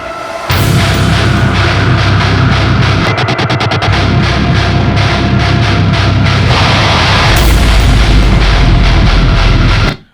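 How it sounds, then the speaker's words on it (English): Loud, dense band backing track with the guitar part unmuted, a full wall of drums, bass and guitar playing steadily throughout before cutting off abruptly at the end, with no talk. "we could unmute my guitar and I would just not play live at all, and then the backtrack would sound like this"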